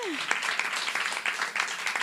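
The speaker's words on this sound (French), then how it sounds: "Une bonne main d'applaudissement pour Gisèle Green, mesdames et messieurs" Audience applause in a live talk setting, a steady dense wash of clapping sustained throughout, fairly close, with voices mixed in.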